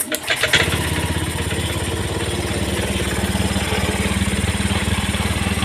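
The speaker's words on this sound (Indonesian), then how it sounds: "Sekarang kita starter." A motorcycle that had broken down, with a sensor fault, is started: a short cranking burst catches into a loud, close, steady idle with even rapid firing pulses that continue to the end, with no talk over it.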